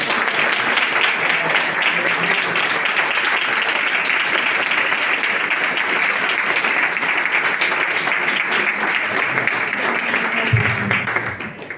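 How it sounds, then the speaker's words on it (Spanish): An audience applauds at a book presentation with sustained, dense clapping for about ten seconds, fairly loud and close, trailing off at the end with a voice coming in. "Pues un aplauso,"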